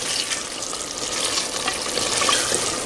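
Mutton masala frying in a pot for mutton handi, a steady close crackling sizzle of oil and spices with no talking.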